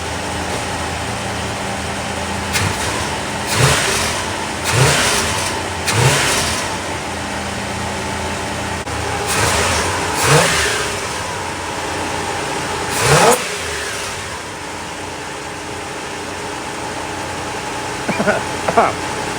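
A 1975 Chevrolet Monza with a 350 V8 runs at a steady, rumbling idle, with several short revs swelling up and fading back as the car creeps forward. People talk nearby over the engine.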